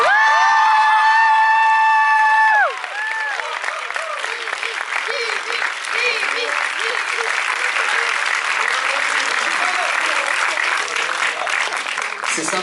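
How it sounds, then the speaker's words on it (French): An audience at a French film premiere bursts into sustained applause with cheers and whoops, a dense loud wash of clapping following a brief tonal sound at the start, with voices mixed in. "Un énorme applaudissement pour Jimmy Labbé"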